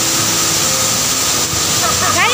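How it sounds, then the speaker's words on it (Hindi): Roaring Neya Waterfall in South Sikkim, a loud continuous broadband rush of heavy water filling the scene, with a faint bird-like chirp near the end. "यहाँ पे पानी का वॉल्यूम बहुत ही बड़ा है इसीलिए हम लोग कुछ सुनाई नहीं दे रहा है"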